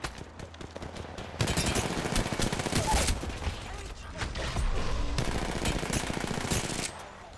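Video-game gunfire in a chaotic firefight, with dense bursts of automatic fire and scattered shots that rattle almost continuously, loud and close, with brief voice chatter underneath.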